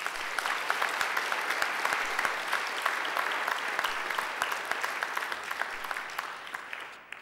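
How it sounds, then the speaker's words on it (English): Sustained applause from a crowd in a courtyard at a graduation ceremony, honouring academic representatives on stage; dense, steady clapping that holds evenly for several seconds before tapering off at the end. "I think they deserve a great round of applause too"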